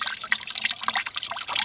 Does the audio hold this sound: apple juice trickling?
yes